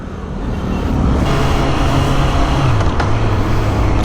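Loud, dense road traffic hums steadily around a Honda CB650R motorcycle, with car and engine rumble close by throughout. A low engine tone shifts near the end.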